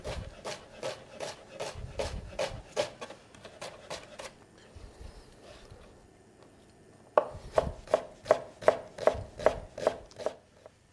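A knife chops an onion on a board in quick rhythmic strokes, pauses for a few seconds, then resumes a fast steady run of crisp close thuds.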